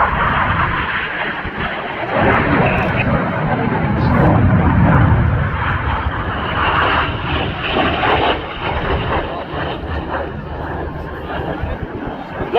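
Red Arrows jets flying a display at the RAF Cosford Airshow, a steady broad roar of jet engines carrying on throughout, swelling slightly midway, with crowd chatter mixed underneath.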